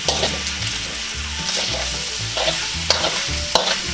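Pork tripe sizzles loudly in a hot pan after soy sauce is added, a steady close crackling hiss with stirring scrapes and clicks throughout.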